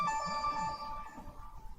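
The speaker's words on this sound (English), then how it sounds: "And there goes my phone." A mobile phone ringtone rings indoors, a bright melodic electronic tone sustained for about a second before fading under faint room noise; nobody speaks.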